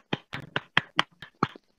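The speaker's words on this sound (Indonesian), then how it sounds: "Beri tepuk tangan untuk Indah." A handful of separate, crisp hand claps ring out one by one in a classroom, about seven spaced beats with short silences between, close and moderately loud.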